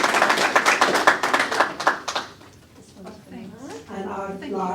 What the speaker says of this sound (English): So would you give them a round of applause?